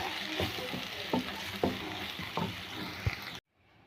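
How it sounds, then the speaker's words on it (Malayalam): Egg curry masala with chili powder is stirred in a hot pan, a steady sizzle with several rhythmic scraping strokes of the spoon, close up, cutting to near silence at the end. "ഒരു അര ടീസ്പൂൺ മുളക് പൊടി എന്നിട്ട് ഒന്ന് ഇളക്കി കൊടുക്കും"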